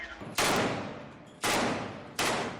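Three sustained bursts of rapid gunfire during a hostage rescue among residential buildings in Gaza, each starting abruptly and loud then trailing off, spaced about a second apart.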